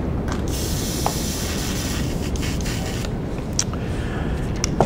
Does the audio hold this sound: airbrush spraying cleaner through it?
yes